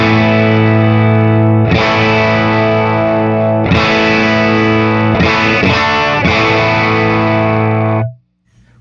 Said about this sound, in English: Here's a demo of the treble knob.